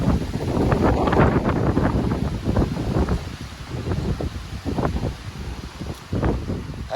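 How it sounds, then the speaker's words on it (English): Strong wind gusts through a home garden with collard greens and a tomato plant in Illinois, roaring and buffeting the microphone continuously with rustling surges throughout. "Y'all, this wind,"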